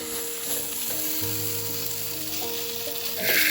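A pork hash with eggs fries on an outdoor camp stove at the edge of the Grand Canyon, a soft continuous sizzle with faint hum and light clatter, growing brighter just at the end.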